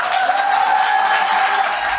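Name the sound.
round of applause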